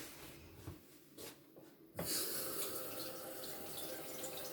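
Tap water runs steadily into a sink for face washing, starting abruptly about halfway through after a few quieter handling sounds, then continuing as a close, even rush.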